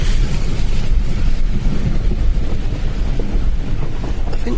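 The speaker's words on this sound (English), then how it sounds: "The big brown muddy splashes all around me." A car drives fast off-road through deep muddy brown water, making a loud continuous splashing roar with a windy rush throughout and no voices.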